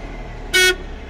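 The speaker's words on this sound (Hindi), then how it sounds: "ये आप हॉर्न की आवाज सुनो इसके" Horn of a Mahindra Maximo mini truck gives one short, loud honk lasting about a fifth of a second, standing out clearly above a low steady background hum.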